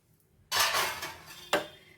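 Dry fruits such as cashews and walnuts tipped into a metal pan all at once for roasting: a sudden rattling clatter of pieces hitting the pan, fading, then a second sharper clink.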